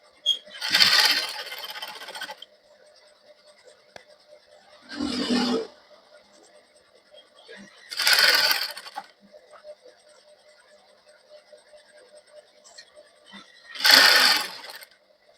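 A sewing machine stitches a waistcoat lining in four separate short runs of whirring, each lasting a second or two, with quiet pauses between them while the fabric is repositioned.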